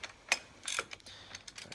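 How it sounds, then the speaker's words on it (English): A ratchet tightens a bottom bolt with a few faint, close clicking strokes spaced unevenly over a quiet background. "I'm gonna get the bottom bolt tightened"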